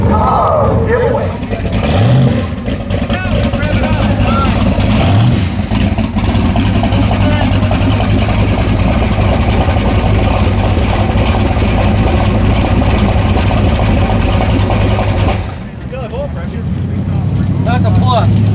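Loud, continuous rumble of several car engines idling at the Sick Week drag racing event in Florida, 2023. The dense engine roar fills the whole stretch, dipping briefly near the end before swelling again.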